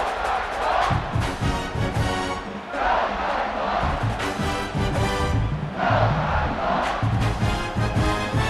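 Stadium crowd in the EA Sports College Football 26 video game, a loud continuous roar of cheering that swells and surges in waves with no voices standing out.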